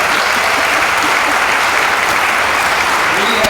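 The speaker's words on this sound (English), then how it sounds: "Can we give another round of applause to Barbara?" Sustained applause from a town hall audience in Flagler County, a dense wash of clapping held at steady volume from start to finish with no pauses.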